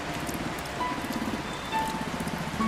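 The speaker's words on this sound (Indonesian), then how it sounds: "Namun, hujan turun." Rain falling in the game Until Then, a steady soft hiss of drops pattering throughout at moderate level, with faint background music tones underneath.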